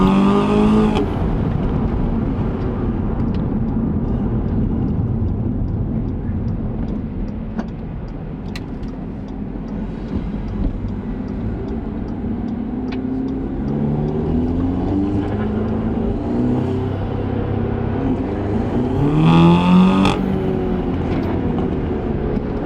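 A car engine revs and pulls hard with traction control switched off on night-time Sandton streets, a loud sustained roar rising and falling through gear changes, with a sharper rev burst near the end.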